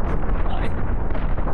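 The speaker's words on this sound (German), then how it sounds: "Ja, Geschütze schießen." Starship guns fire and explode in a space combat battle in the game Cosmoteer, a dense, continuous barrage of booms and bursts filling the whole stretch at close, loud level.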